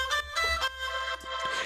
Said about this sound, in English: What we'll do first is we'll take a look at the main vocal lead